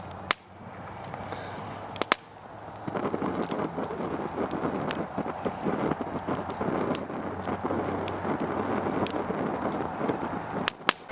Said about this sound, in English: You could hear that flame, wind licking it, causing it to make a noise like that.